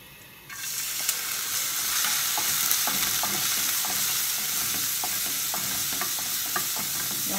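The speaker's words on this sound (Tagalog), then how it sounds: "Pag nainit na, lagay natin yung garlic." Garlic dropped into hot oil for Korean japchae: a sudden burst of loud, close frying that settles into steady crackling sizzle, punctuated by small stirring taps, with no talking.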